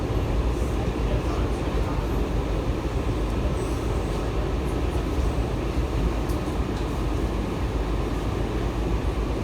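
A Washington Metro Kawasaki 7000 series subway train rolls along with a loud, steady low roar and rumble that fills the whole stretch without letup, heard from on board.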